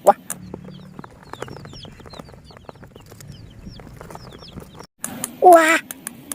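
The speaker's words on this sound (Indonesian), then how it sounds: "Wow, ini ada ayam." A toy chicken gives clucking, quack-like squawks in short bursts, followed by a louder, harsh burst near the end, all close and indoors.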